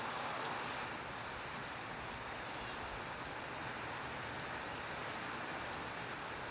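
A downpour drums on in a Botad village, a broad, unbroken roar of rain on surfaces that holds constant throughout, with no voices.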